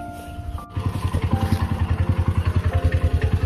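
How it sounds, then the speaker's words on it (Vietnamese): A small engine driving the air pump of a pesticide sprayer catches after a brief quiet moment, then settles into a steady, rapid thumping idle close by. "Mình phải nổ cái máy này lên để cho chú mới bắn được."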